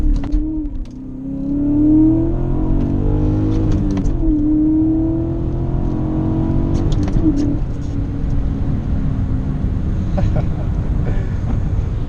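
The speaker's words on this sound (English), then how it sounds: "the biggest thing about this car is that motor, the V8, man. It just sounds absolutely amazing." A BMW E39 M5 V8 engine accelerates on a rainy road, its note rising in pitch through repeated gear pulls with brief dips between shifts, under a constant wash of road and rain noise.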